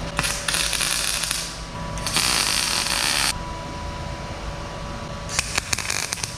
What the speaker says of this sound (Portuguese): fazendo a parafusação aí do painel